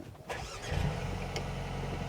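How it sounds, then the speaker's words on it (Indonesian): A 2020 Mercedes-AMG A 35 engine starts up, with a short starter crank and then a rising roar that settles into a steady, fairly loud idle close by. "itu mesin pada saat pertama kali start itu naik RPM-nya sampai sekitar 1800 RPM sebelum turun lagi"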